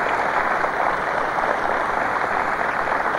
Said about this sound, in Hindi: जोरदार तालियां एक बार फिर निशांत जी के लिए